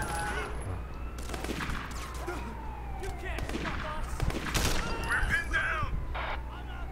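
Gunfire from a police shootout in the video game Sleeping Dogs, heard as bursts of shots layered over a wailing siren and busy game noise, with a voice speaking over the action.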